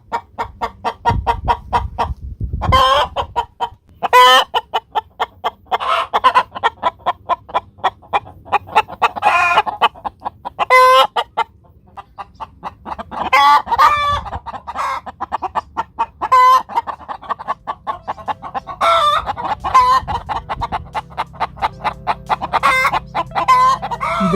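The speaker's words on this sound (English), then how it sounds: "And after the chickens lay their eggs, they will let you know." Chickens cluck loudly and repeatedly in a close, busy chorus, with a rooster's crow breaking through now and then over the steady clucking.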